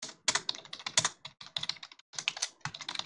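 Rapid, close clatter of keystrokes on a computer keyboard as Java code is typed, bursts of clicks with brief pauses and no voice.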